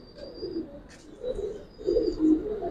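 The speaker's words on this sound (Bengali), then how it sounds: "এটা ভাই মাদি কবুতর" A female Giribaz pigeon of an old breed, with an all-black tail, coos in low, throaty rolling phrases, three swelling bursts at close range with a faint high hiss behind them and no talking.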